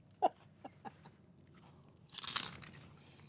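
A few sharp crunching bites into a tostada ring out close to the mic, followed by a louder burst of crisp crunching as it is chewed.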